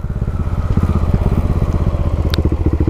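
A big single-cylinder motorcycle engine is heard at close range during a ride, loud and throbbing with a rapid, even thumping pulse and rough mechanical clatter.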